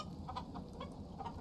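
Chickens in the open-world survival game Icarus cluck softly in short, scattered bursts, faint and close, over a low steady background rumble.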